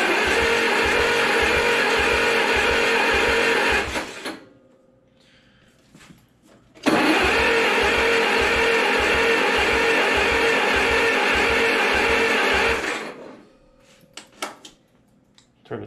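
A 1950s gas-powered air compressor engine left sitting for 30 years fires up and runs with a loud, steady chugging pulse, cuts out, then restarts and runs again before stopping, with quiet gaps between.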